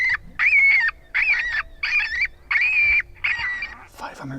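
Electronic predator caller blaring a coyote pup distress call on a Halloween coyote hunt: six loud, wavering yelping cries in steady rhythm, each about half a second, ending in a brief burst of other noise.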